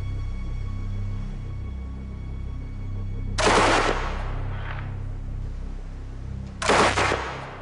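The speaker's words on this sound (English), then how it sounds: "I'm shooting at metal plate the same thickness as the armour on a German night fighter" Automatic gunfire aimed at a steel plate as thick as the armour on a German night fighter, two loud, sharp bursts a few seconds apart, each crashing out over a low background hum.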